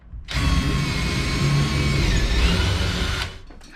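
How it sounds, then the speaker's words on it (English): A power drill bores the first hole into a wall for mounting a TV, a steady close whirring grind running about three seconds with no pauses and no talk. "we're going to drill that first hole"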